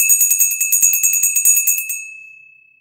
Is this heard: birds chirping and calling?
no